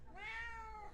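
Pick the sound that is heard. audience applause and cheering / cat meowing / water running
cat meowing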